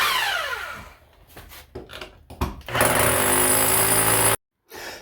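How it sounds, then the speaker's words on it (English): Power tool chipping up a concrete floor for a bathtub install, heard as bursts of harsh, loud hammering and grinding that turn into a sustained roar, then a brief stop and a restart. "when you chip up the concrete, make sure that you're chipping away from the pipes"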